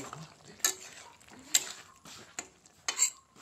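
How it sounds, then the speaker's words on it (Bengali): Meat curry with garam masala and a reduced, nearly dry gravy being stirred in a pot, several sharp metallic scrapes and clinks of a spoon against the vessel at an uneven pace over a faint low sizzle. "এখন একটু নেড়ে নিচ্ছি।"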